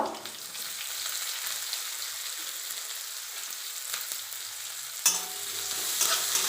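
Onion sizzles in a hot pan as it is stirred, a dense continuous frying hiss with soft scraping, and one sharper scrape or knock near the end, with no voices.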